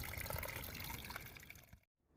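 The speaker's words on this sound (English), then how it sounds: "Looks like some pretty clean water coming out of there." Spring water flows steadily out of an earthen bank in Massachusetts, a continuous close splashing trickle that cuts off abruptly near the end.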